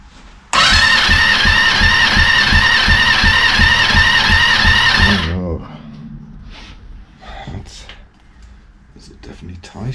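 A Yamaha XJ600 motorcycle engine cranks with the throttle held open, giving a loud, steady, rhythmic churning for about five seconds before it cuts off. Quieter handling noises and talk follow.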